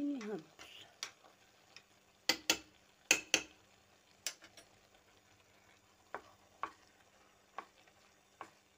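Butter frying in a pan while being stirred, with intermittent sharp utensil taps and scrapes against the pan over a faint sizzle, spaced irregularly and fairly close.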